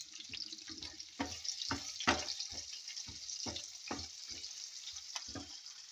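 Garlic and onions saute in a pan for mixed vegetables, with a steady sizzle under repeated close scraping and stirring knocks.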